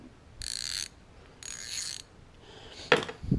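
A quarter-inch ratchet clicks in two short, even bursts, followed by a couple of sharp metallic taps.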